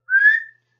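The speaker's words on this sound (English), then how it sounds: "The guard blew his whistle" A train guard's whistle gives a single short, shrill blast that rises slightly in pitch and fades within half a second.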